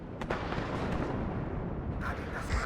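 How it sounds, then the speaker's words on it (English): Artillery fire in the WARNO war game, a dense rumbling barrage of booms with sharp bursts near the start and again toward the end, loud and continuous. "Artillery flying everywhere."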